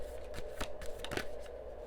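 A deck of tarot cards shuffled close up, producing a steady run of soft riffling flicks and papery snaps over a faint background hum.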